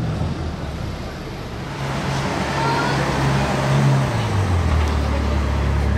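A Ferrari 812 Superfast rumbles outdoors, its engine note rising and swelling midway through amid broad traffic-like noise and ambient wash, with no clear speech.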